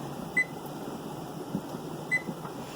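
A kitchen timer is set during water-bath canning of mulberry jelly, giving two short, faint electronic beeps about two seconds apart over a low steady hum from the boiling pot and room.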